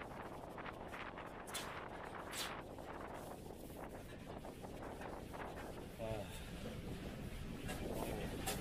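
Strong wind buffets the microphone in a steady, loud rush during a storm with rain at a house, with gusting noise throughout and no clear speech.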